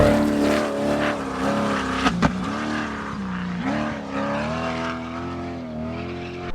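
Desert race cars roar past on the track one after another, with loud engine drone rising and falling and brief sharp bursts as the cars go by close, with no talking.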